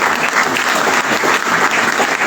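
Dense, continuous audience applause at a direct-selling business event as a guest is called to the stage, loud and sustained without a break.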